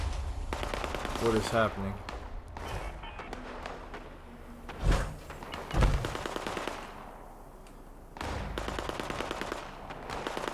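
Bursts of automatic gunfire and heavy shots rattle through a chaotic firefight in the video game Fallout 76, with a couple of louder impacts midway, while someone talks over the noise.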